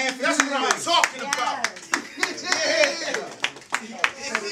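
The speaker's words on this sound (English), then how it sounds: "Give my man a round of applause." Audience clapping at a live a cappella rap party show, scattered sharp claps mixed with loud cheering and voices throughout.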